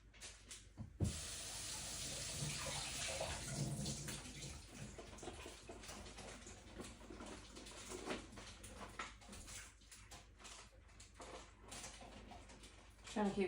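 Tap water runs into a kitchen sink while produce is washed, a continuous splashing flow with clinks and handling noises; someone talks over it.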